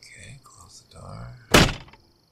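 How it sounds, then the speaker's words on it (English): A car door in the video game DayZ shuts with a single loud, short thunk after a few seconds of people talking. "Okay, close the door."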